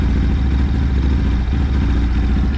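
Motorcycle engine with an original Geon carburetor idling without throttle, a loud, close, steady low chugging rumble throughout, no voices.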